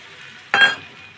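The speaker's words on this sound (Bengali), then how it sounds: "এর মধ্যে সামান্য একটু জল দিয়ে দিব" A splash of water hits a hot, sizzling pan while a spicy fish fry curry is cooked, making a single sharp hiss that flares up and quickly fades against a low background.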